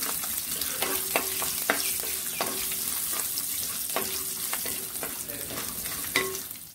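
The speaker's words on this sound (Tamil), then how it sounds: "சின்ன வெங்காயம் ஒரு 20 சின்ன வெங்காயம் எடுத்துக்கங்க அத சேர்த்துக்கலாம் ரெண்டா கட் பண்ணி வெச்சிருக்கங்க அத சேர்த்துக்கிறோம் பூண்டு வெங்காயம் ரெண்டு வதங்கட்டுங்க" Shallots and garlic sauté in oil for a drumstick and brinjal tamarind curry, a steady close sizzle broken by repeated sharp spoon scrapes and taps against the pan, with no talking.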